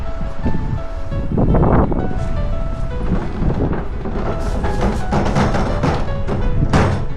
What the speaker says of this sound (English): It'll wake you right up, this wind.